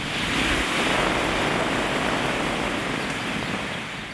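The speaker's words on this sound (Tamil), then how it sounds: "பலத்த காற்றுடன் மழை பெய்தது." Heavy rain with strong wind over villages in Tamil Nadu makes a dense, loud, steady roar of rushing noise with gusty buffeting that holds almost constant for four seconds before easing slightly.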